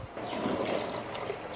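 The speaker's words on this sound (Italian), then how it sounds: "rimbocchiamo di acqua." Water poured into a cooking pot over tomato sauce for stuffed zucchini, a continuous close splashing trickle lasting a second or so with no voices.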